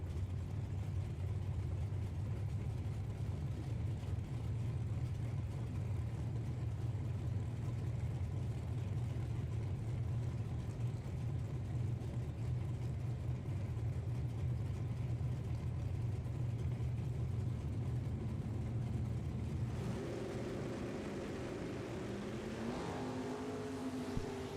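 Drag race between a 1979 Oldsmobile Starfire and a Monza, heard as steady roaring engines at a distance that thin out toward the end, with faint voices near the end.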